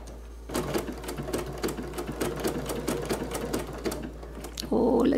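Bernina sewing machine stitching fabric applique, a fast steady rhythmic chatter of needle strokes running for several seconds over a low constant hum, then stopping with a brief whir, close and clear with no talk.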